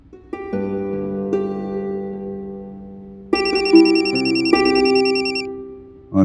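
An electronic telephone ringtone plays indoors in a television drama, loud and close, with sustained melodic tones that change pitch in steps and restart near the end.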